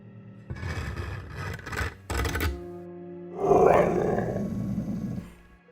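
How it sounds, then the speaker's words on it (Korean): A dog gives a low, rumbling growl that swells and then fades, after a stretch of scraping and shuffling noises from a cabin roof. "눈이 뜬 또리는 낮은 목소리로 으르렁거렸고"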